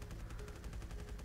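Rapid, steady gunfire from shooting zombies in the video game Death High, a dense run of evenly spaced shots at moderate level with no talking over it.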